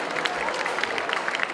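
A large audience claps together for the crowd at a Slovenian public event, steady broadband clapping with scattered sharper claps, fairly close and sustained throughout.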